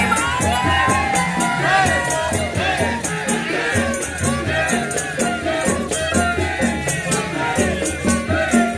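A crowd cheers and applauds at an Ogoh-ogoh parade in Jakarta, a busy, noisy mix of voices, whoops and clapping filling the street, with music and chatter layered underneath throughout.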